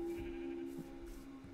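Minecraft sheep bleating softly within a steady hum of game ambience, with faint thuds scattered through the short stretch.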